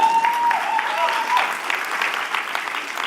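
Audience applause rings out during designer Frank Chimero's talk at XOXO Festival 2016, a dense, steady clatter of clapping lasting the whole stretch at fairly even loudness.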